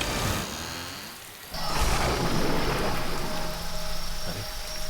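Steady heavy rain pours outside a house in a horror TV serial scene, a dense hiss that swells louder partway through with a low rumble beneath, with no talking.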